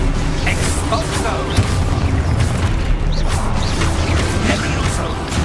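Spell-casting blasts in Hogwarts Legacy on PC, a dense stream of booming, crashing impacts and bursts layered over constant game noise, with speech mixed in.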